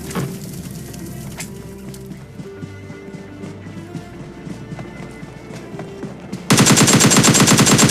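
Rapid automatic gunfire in the mobile battle-royale game PUBG Mobile Lite, with a buggy nearby, bursting in loud and dense over the last second after a stretch of softer in-game clatter and hoofbeat-like thumps.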